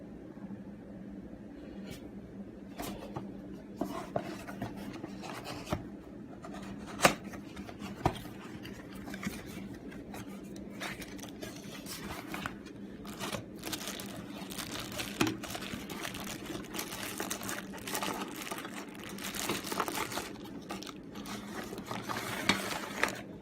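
Cardboard and plastic packaging of a 1:200 Emirates Boeing 777-300ER model crinkles and rustles as the box is opened, with scattered clicks and soft taps over a low background hum.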